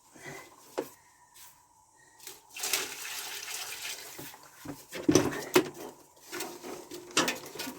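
Water poured and splashing into a container for a mortar mix inside a bunker shaft, heard in intermittent bursts with clattering and quiet gaps between pours.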